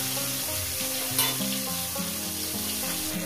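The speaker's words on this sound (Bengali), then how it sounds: "আমার মাছটা ভাজা হয়ে গেছে" Fish crackles and sizzles while frying in hot oil, a dense, steady close spitting sound with a small pop near the middle and no voices.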